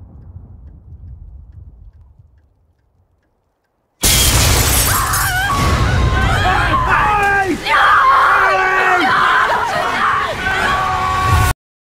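Window glass bursting in a horror film trailer after a quiet low rumble, a sudden loud shattering crash followed by sustained chaotic noise with screams and yelling throughout.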